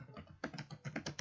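Rapid clicking of computer keyboard keys while entering a name into an Excel spreadsheet, a steady run of close, crisp keystrokes with a few louder clustered taps, no voices.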